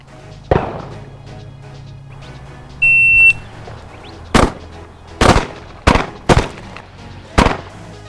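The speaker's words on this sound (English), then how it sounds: "You're going to be firing 2 rounds in 9 seconds." An electronic shot-timer beep on a pistol range is followed by sharp, loud gunshots. One crack comes before the beep, then five shots fire in a quick, uneven sequence afterward.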